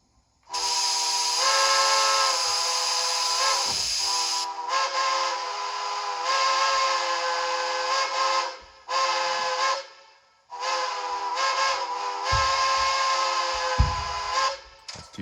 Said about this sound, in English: that's 2 separate grade crossing whistles